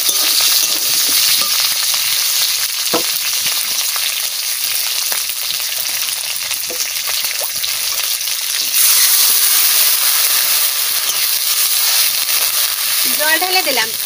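Fish pieces fry with garlic in a pan, giving a constant crackling sizzle up close, with occasional utensil knocks and a brief louder burst of spitting oil near the end.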